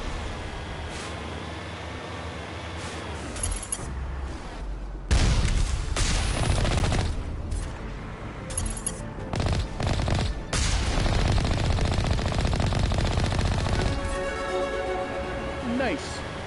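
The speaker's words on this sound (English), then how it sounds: "there was another turret firing" Repeated turret gunfire and booming blasts from the video game Mass Effect Legendary Edition, loud and dense in bursts with someone talking over parts of it.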